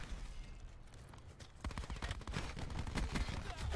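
Gunfire in Call of Duty: Black Ops 4 opens after a quieter stretch into rapid, dense bursts of shots, fairly faint in the mix alongside game ambience.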